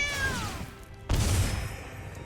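A cat meow sound effect from the Magic: The Gathering Arena video game: a single clear, descending meow, followed by a sudden loud burst of impact and shimmering noise.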